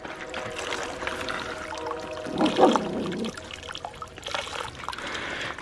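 Water pours steadily into the bucket intake of a half-inch ram pump, a continuous close trickling splash that swells briefly midway.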